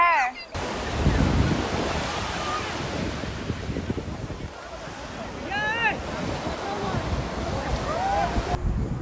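Surf rolls onto the beach at Puri in a steady, wind-blown wash of waves, loud and continuous, with people talking over it.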